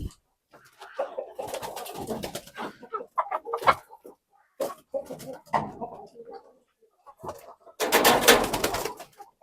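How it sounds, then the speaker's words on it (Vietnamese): A flock of frizzle-feathered H'mong laying hens clucks and murmurs close by, irregular bursts of soft throaty calls with brief quiet gaps, ending in a louder flurry of clucking and flapping. "Đây là đàn gà lông xù đẻ của em."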